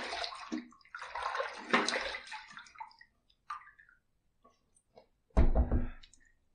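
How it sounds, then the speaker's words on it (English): Running water from a tap splashes as a razor with a level 4 plate is rinsed under it. The flow is steady for about three seconds, followed by a few drips and then a short louder splash near the end. "Let's rinse."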